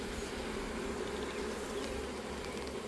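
A swarm of honey bees being transferred into a hive buzzes steadily and densely nearby, a constant loud drone without speech.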